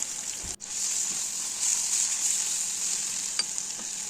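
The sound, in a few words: mashed sweet potato roasting in pan with cardamom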